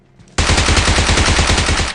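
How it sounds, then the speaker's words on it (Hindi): Sudden automatic gunfire in the mobile battle royale game BGMI, a loud, rapid burst of evenly spaced shots lasting over a second after a brief quiet. "लेफ्ट की तरफ से कुछ गन साउंड आते हैं"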